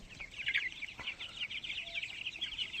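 A flock of 25-day-old tiger chickens makes a continuous high-pitched cheeping chatter with a few soft clucks, nearby and steady, with no voices.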